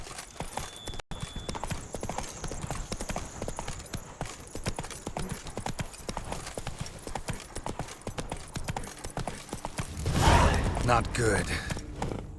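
Hooves of the horse Roach in The Witcher 3 clip-clop steadily and continuously at a close, even pace, with a brief spoken line over them and a louder rustling burst near the end.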